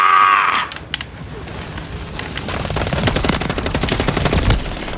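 Machine gun fire in the video game Call of Duty rattles in rapid, loud bursts that grow denser toward the end, following a short louder sound at the start.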